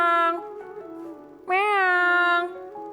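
A human voice imitates a cat's meow, in place of a lion's roar in a folk tale: a sustained harmonic call, then a second louder, rising meow after a short pause, close and clear.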